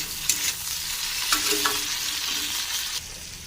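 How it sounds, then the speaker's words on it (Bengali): A spatula scrapes and stirs through bitter gourd sizzling steadily in a pan with turmeric and salt, with a few sharp clinks against the metal, close by and without talk. "ভালো করে নাড়াচাড়ি করে নেব"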